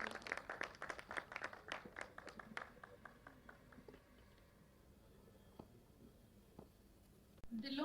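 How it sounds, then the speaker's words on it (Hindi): An audience claps to welcome poets at a birthday celebration honouring Khumar Barabankvi. The crisp claps are faint and start fast, then thin out to a few scattered strikes. "एक बार और इनका जोरदार तालियों के साथ स्वागत कीजिए।"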